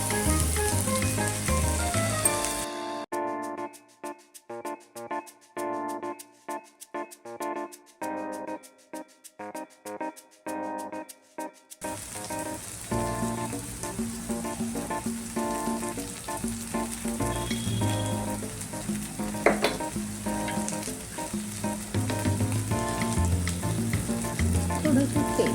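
A puree of drumstick pods cooks in a pan of onions for a rustic Maharashtrian dish, sizzling and bubbling steadily with stirring clatter and no talking. Sharp rhythmic crackles come early, then a denser, louder fry.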